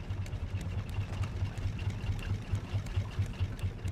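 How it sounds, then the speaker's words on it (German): A raft's motor runs in the survival game Raft, a steady low mechanical chug with a regular pulsing rhythm that carries on without pause and stays fairly quiet and even. "Können wir den Motor ausschalten?"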